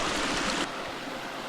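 Water rushes steadily over boulders down a small cascade in a bush creek, a close, dense broadband splashing with no voices.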